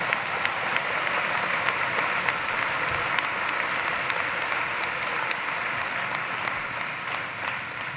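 A steady wash of applause at a university commencement ceremony in Gentile Arena, with many hands clapping evenly from a large, somewhat distant crowd and no speech over it.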